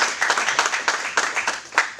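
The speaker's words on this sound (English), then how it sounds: "So please give a round of applause for Jessica Goldman Srebnick" An audience at a business forum applauds, its hand claps coming in uneven bursts, close and fairly loud, with slight voice activity mixed in.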